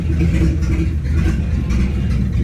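A Jeep CJ7 engine with no exhaust pipe or muffler runs close by with a loud, rough, steady low rumble at idle, no talking.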